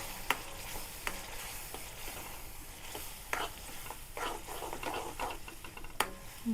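Curd is stirred into papad curry in a pan over a soft, continuous sizzle, with several sharp scraping strokes of the spoon against the pan at irregular intervals. No talk is heard.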